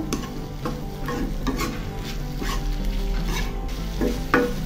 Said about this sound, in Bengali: তো আমি লাউয়ের খোসাটা আবার নেড়ে চেড়ে দিচ্ছি